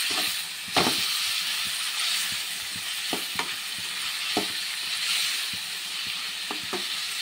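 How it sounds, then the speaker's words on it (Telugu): Masala for chicken curry fries in a pan with a steady, close hiss, while intermittent scrapes and soft knocks of stirring break through every second or so. "ఇక్కడ ఇవన్నీ ఫ్రై అవుతున్నాయి"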